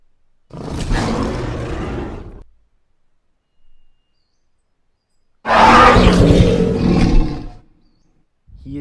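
A Monolophosaurus dinosaur gives loud calls on a mountainside, two long rasping roars separated by silence, each lasting about two seconds, close and powerful, with a brief grunt between them.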